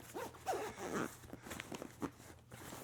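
The zipper on a Delta Airlines golf duffel bag is worked in a few short, scratchy pulls with brief pauses between them, close up and fairly quiet.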